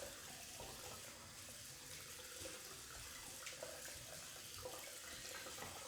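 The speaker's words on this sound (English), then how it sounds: "I am just going to rinse this out a little bit because the first pass is always the messiest pass in the sink." Tap water runs steadily into a white sink while a shaving brush is rinsed under it, a soft, continuous splashing hiss with no voices.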